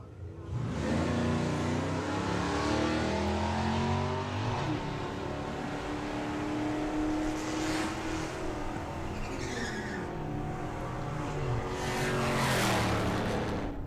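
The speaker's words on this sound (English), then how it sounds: "Pete Walters, 1235, the dial-in for the Camaro." A Camaro drag racing car launches and accelerates down the strip, its loud engine roar climbing steadily through rising pitch sweeps. Brief tire squeal sounds over the din.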